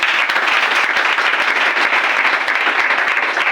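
Congregation clapping during a church service, a dense, steady burst of applause filling the space at close range without a break.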